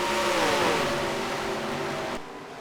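Race trucks from a Bristol oval event in a racing video game drone past with steady engine tones that shift in pitch as they lap, one loud continuous blend of motors with no talk over it.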